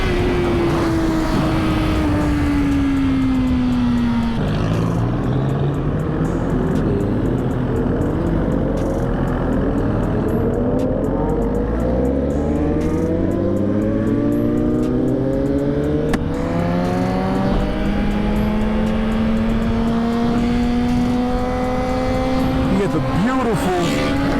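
A group of motorcycles on the road, ridden from the seat of a Suzuki GSX-R 1000, with loud engine drone rising and falling through gear changes and nearby bikes passing and revving under steady wind.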